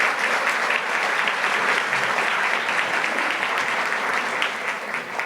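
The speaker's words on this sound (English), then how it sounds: "Can I get a big round of applause for all of our speakers here today?" Conference audience applauding for the day's speakers, a thick, continuous roar of clapping from a large crowd, even and loud throughout.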